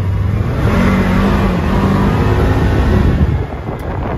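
A 2022 Polaris Ranger XP 1000 Waterfowl Edition UTV pulls away from a stop with a loud, close engine roar that climbs steadily in pitch and holds strong, then eases slightly at the end.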